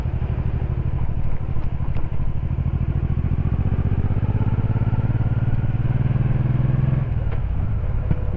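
Steady motorcycle engine rumble heard close from the rider's position while filtering forward past a line of queued traffic on a wet street, a constant low drone that swells slightly before easing off.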